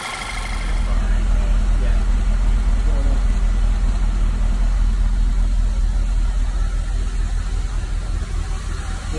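A car engine with direct injection is held at raised RPM during a chemical carbon cleaning, giving a loud steady drone with hiss and no break in tone.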